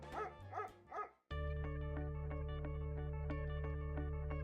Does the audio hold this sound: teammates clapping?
no